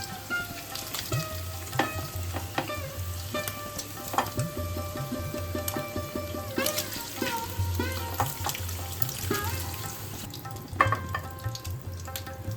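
Potatoes frying in the oil left over from frying paneer, a continuous crackling sizzle with clinks and scrapes of a ladle against the pan and a brief watery rush near the end, with no speech.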